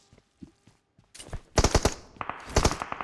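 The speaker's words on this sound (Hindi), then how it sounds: "सामने वाले घरों से आ रही थी मुझे फायरिंग" Gunfire in a mobile battle royale game, a few scattered single shots and then dense bursts of rapid automatic fire, loud and close, with no talk.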